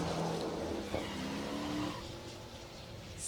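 Drag racing cars roar at Hot Rod Drag Week, a muffled, fairly faint engine drone that fades a little partway through.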